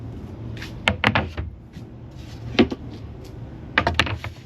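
Camper storage drawers built into a 2001 GMC Yukon XL slide open, with several close clunks and knocks in two quick bursts, then a single thud and a final cluster of knocks, fairly near and without talk.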